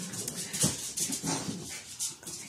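An excited dog whimpering nearby, a string of short, high, breathy whines and snuffles in quick irregular bursts, fairly loud and with no talk.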